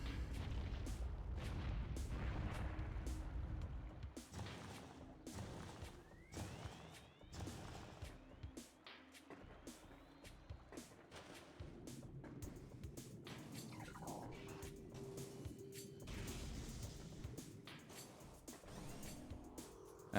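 Missiles and blasts fired in Metroid Prime, a series of sharp, booming impacts and bursts, some clustered, others spaced out, over a low game ambience, fairly quiet overall.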